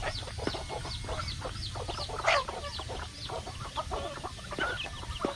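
Domestic free-range chickens cluck steadily on a backyard poultry farm, a dense layer of repeated short calls from several birds over a low farmyard rumble, with one sharper, louder squawk near the middle.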